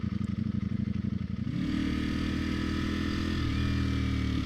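A 2021 Ducati Panigale Superleggera V4 motorcycle riding in a city: a throbbing idle-like pulse gives way to a loud, close, sustained engine drone that rises slightly in pitch, with no talking.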